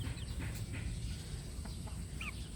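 Bulik gamecock stags cluck softly now and then over a steady background hum, the calls brief and somewhat distant, on a hot day.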